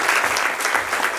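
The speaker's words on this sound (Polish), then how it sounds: "Kosia Ciuła, duże brawa." An audience at a youth theatre performance about cyberbullying applauds a cast member, giving a dense, even round of clapping that carries on throughout the short stretch, loud and full, with no one speaking.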